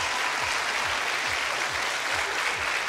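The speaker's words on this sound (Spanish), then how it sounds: "Un aplauso, vea." A television studio audience applauds in a dense, even burst of clapping, loud and continuous throughout with faint rhythmic thuds beneath.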